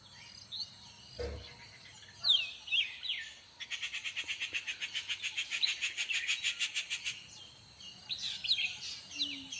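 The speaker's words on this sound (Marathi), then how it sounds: "पक्ष्यांचा आवाज बघा मस्तच सुंदर" Birds chirp and twitter in short bursts, while a rapid rhythmic insect-like trill pulses through the middle of the recording, all fairly distant.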